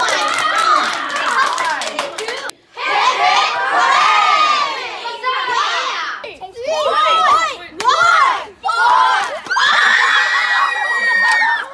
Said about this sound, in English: give Matthew a round of applause